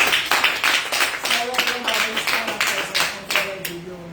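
A congregation at a French-language Christian church service claps together in sustained applause, dense and steady throughout, with a voice speaking over it.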